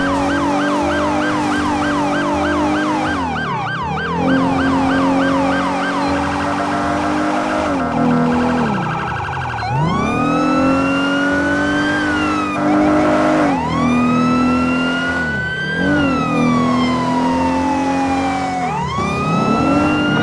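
A police siren from a Los Angeles County Sheriff's patrol car running code 3 in a manhunt, wailing continuously with rising and falling sweeps, loud and close, with engine rumble beneath and no talk.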